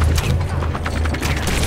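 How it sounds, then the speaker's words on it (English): Explosions in the Lego Marvel Super Heroes video game: a dense, loud burst of booming rumble and crackling debris, continuous and heavy through the short stretch with no pauses. "Well, explosions."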